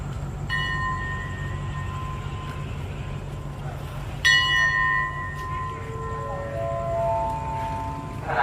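A station bell at a Thai railway station is struck twice by staff to signal the departure of train 313. Each clear metallic ring hangs and decays over a low rumble of the waiting train, with faint voices nearby.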